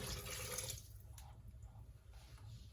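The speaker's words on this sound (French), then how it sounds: "je vais venir ajouter mon eau" Water being poured into a Monsieur Cuisine Connect food processor while making Moroccan bissara, a fava bean soup; a steady splashing pour that eases into lighter trickling, close and fairly quiet, with no talking.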